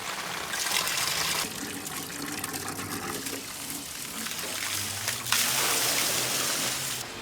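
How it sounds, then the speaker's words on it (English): Water rushes and gushes steadily as a river water wheel is switched on at an abandoned riverside property, a continuous close splashing flow that swells louder toward the end. "Should I turn on the water wheel?"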